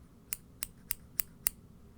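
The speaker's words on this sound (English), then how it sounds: "And what a great pair of scissors." Five crisp snips from a good-quality pair of utilitarian scissors, evenly spaced and close, alone against a quiet background.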